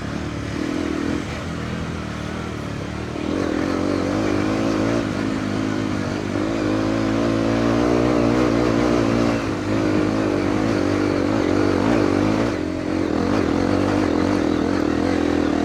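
Motorcycle engine held at high throttle climbing an offroad hill, a loud, steady, close-up drone with strong low harmonics, rising and straining through the middle and easing briefly near the end.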